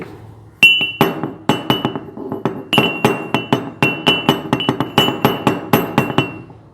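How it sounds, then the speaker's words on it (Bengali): Rhythmic metal-on-metal pounding of a brass or iron mortar and pestle (hamandista) crushing peeled ingredients, a steady series of sharp ringing clanks at close range with no talk. "তারপরে নিলাম হামান দিস্তা এর মধ্যে দিলাম দিয়ে"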